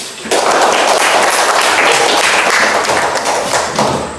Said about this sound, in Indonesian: Baik, kita tepuk tangan dulu.